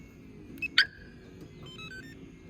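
A 1987 Buick Turbo T Grand National's alarm gives two short electronic chirps as it arms, the second louder, followed by faint tonal blips against a quiet garage background.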